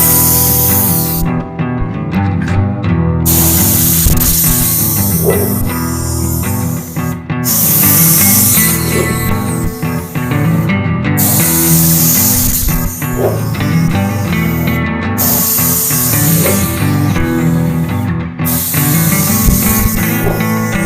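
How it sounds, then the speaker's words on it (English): A spray gun lays a light tack coat of paint on the driver side of a car in steady hissing passes with short pauses between them, heard under loud background music. "Just a light tack coat to give the paint something to stick to."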